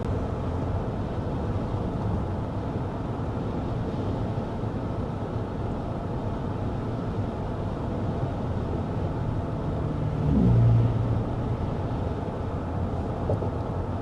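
Steady low cabin road rumble inside a 2026 Chevy Tahoe High Country cruising at 55 mph with the fan on its lowest setting, a constant even drone with a brief low swell near the end and no talking.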